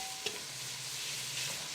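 Onions frying in a small amount of oil in a pan, a soft continuous sizzle with a brief utensil tap near the start, steady and close, no talk.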